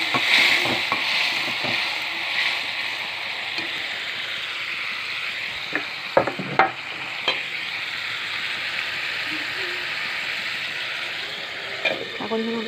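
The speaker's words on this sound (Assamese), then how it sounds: "অকণমান সময় ভাজি ল'ম।" Mushrooms, potato and pumpkin frying in a pan after a little water is added, a steady close sizzle with occasional sharp spatula clinks and scrapes against the pan.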